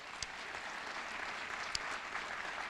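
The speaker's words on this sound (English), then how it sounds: "So Jeff Rosenstock, let's give Jeff a big round of applause." An audience applauds steadily throughout at a Queens College Martin Luther King Jr. Day commemoration, a dense wash of many hands clapping with no voices on top.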